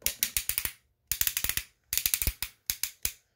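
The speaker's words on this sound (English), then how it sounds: "We get waist swivel, which is ratcheted for some reason." Ratcheted waist swivel joint on a Transformers Optimus Primal transformable mask, turned in four quick runs of crisp clicks, each a rapid series of close ratchet snaps with brief pauses between.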